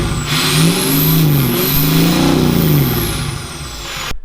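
Ford 6.0 Powerstroke diesel pickup with a newly installed exhaust, revving loudly and close, rising twice and falling back in a rough, droning roar, then cutting off abruptly.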